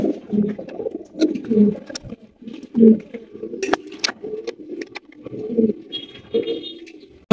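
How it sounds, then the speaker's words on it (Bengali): A pair of grizzle pigeons gives low, throaty cooing in repeated bursts, close by, with a few clicks and light rattles in between. "এখানে রয়েছে একজোড়া গ্রিজেল কবুতর"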